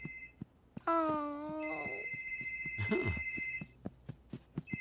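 A mobile phone rings from the kitchen with a bright, repeating electronic tone, fairly distant and muffled, while a voice moans and soft thumps sound around it.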